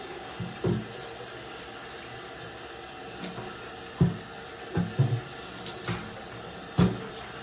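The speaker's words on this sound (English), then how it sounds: "Now we're going to rinse out the actual container here, or the tank." Water runs faintly while the water tank of an MCXL coffee machine is rinsed out at a sink, with soft splashes and several brief plastic clunks as the tank is handled. No one speaks.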